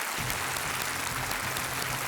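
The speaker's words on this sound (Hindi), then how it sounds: "जोरदार तालियों के साथ इनका स्वागत किया जाए।" A studio audience on a TV quiz show applauds, a dense and steady wash of many hands clapping throughout.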